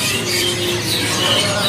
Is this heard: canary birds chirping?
yes